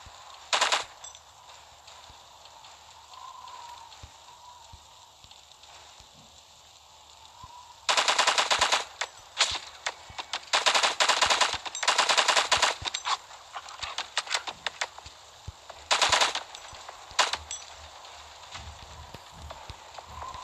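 Uzi submachine gun firing in the video game LifeAfter, with several loud rapid bursts of automatic fire, some long and some short, separated by quieter stretches of in-game ambience.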